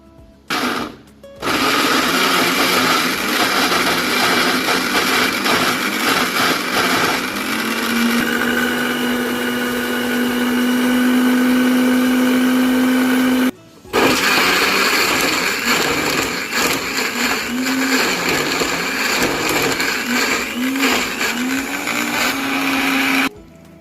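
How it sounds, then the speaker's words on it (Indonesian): An electric blender whirs loudly as it purees a meat marinade for sate maranggi, with a brief start, a long steady high-pitched run, a short stop and then more blending, and no talking. "Ini preview kita udah blender ya, tapi ini masih mau kita blender lagi."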